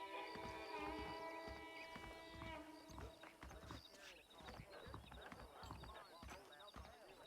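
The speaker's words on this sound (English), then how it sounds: "The horses are saddled up over here." Saddled horses in the Red Dead Redemption video game, hooves clopping in an uneven series of soft thuds, with someone talking and a tonal music bed over the first few seconds.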